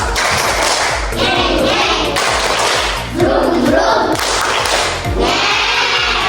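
A group does the "tepuk motor" ice-breaking clap, loud rhythmic claps and thumps in repeating bursts with short pauses between rounds, and voices calling along in the middle.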